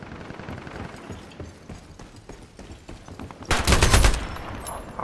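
Gunfire from the video game Ironsight: faint, scattered background shots and clicks, then a loud, dense burst of rapid shots close by near the end.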